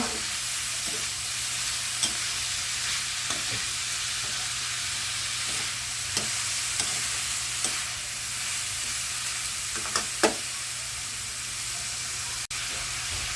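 Tomatoes sauté and sizzle in a pan for pork binagoongan, a steady hiss of frying with a spoon stirring and scraping at irregular intervals, close and alone without talk.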